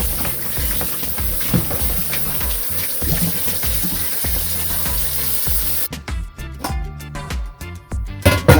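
Tap water runs steadily into a sink while goat meat is rinsed and drained for curry goat, a loud continuous gush with splashing that breaks into choppier, uneven splatters near the end; no talking.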